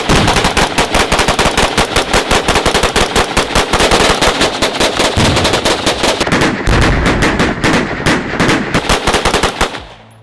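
Sustained rapid gunfire at a mannequin rigged with tannerite, a dense automatic-style stream of loud, close shots that runs almost continuously before stopping abruptly near the end, no talking.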